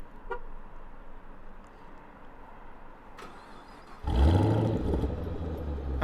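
A Chevrolet Camaro ZL1 with its exhaust valves held open sits at low rumble, then bursts into a loud, deep revving roar partway through.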